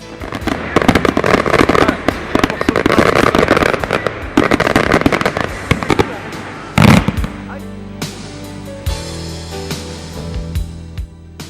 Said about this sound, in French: Le traditionnel feu d'artifice a retenti.